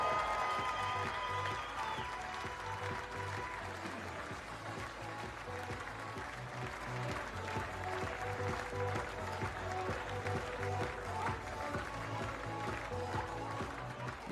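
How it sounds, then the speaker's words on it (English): Steady applause and clapping from a large audience at a darts world championship, greeting a Hungarian finalist, continuous and dense throughout without any speech over it. "Applause for your finalist from Hungary, Christina Turay."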